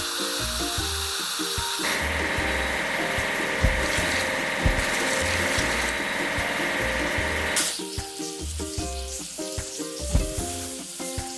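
Water sprays over a toy excavator in a steady, bright hiss lasting several seconds, set against a light tonal musical backing that continues after the spray stops.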